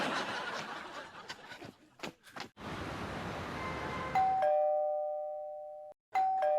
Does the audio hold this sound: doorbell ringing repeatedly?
yes